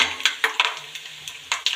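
A spoon clinks and scrapes repeatedly against a pan as green chilies and peanuts are stirred in hot oil, with sharp metallic taps at an uneven rhythm over a faint sizzle.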